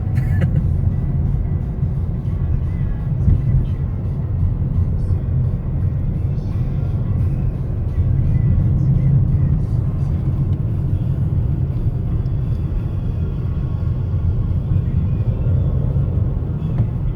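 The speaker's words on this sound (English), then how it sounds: "3 cars all at once. This must be rush hour." Cars drive past on a small-town road, a steady loud rumble of engines and tyres that swells and eases across the stretch with no clear gap between vehicles.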